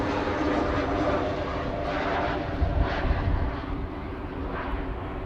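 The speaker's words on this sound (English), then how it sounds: "Just a flyby." Aircraft flyby at Amsterdam Schiphol Airport, a continuous rumbling engine roar at moderate distance, holding steady with a slight surge in the middle before climbing away.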